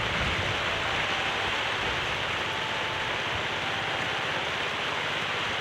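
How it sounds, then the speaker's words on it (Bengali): Rain falls steadily across a wide village area, a constant broad hiss of drops that stays even and unbroken throughout, with no voices. "এই দেখছো কত দূর পর্যন্ত বৃষ্টি আয়া পড়তেছে"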